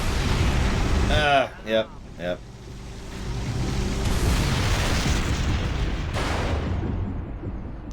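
A weapon in the Space Marine video game fires with heavy booming blasts, followed by a long rumbling roar that fades out. A brief voice is heard between the blasts.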